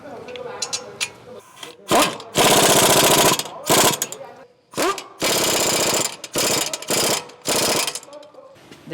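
An impact wrench tightens the brake caliper bracket bolts on a 2015 Honda Accord in several loud, rattling hammering bursts separated by short pauses and faint clicks.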